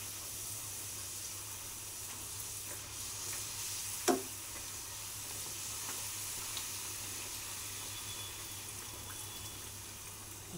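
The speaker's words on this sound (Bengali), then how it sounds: "এবার আমি কড়াটার মধ্যে বড় বড় লুচিগুলো দিয়ে দিলাম।" Large luchi puris fry in hot oil in a kadai, giving a soft, even sizzling hiss throughout with one brief click midway. No voices.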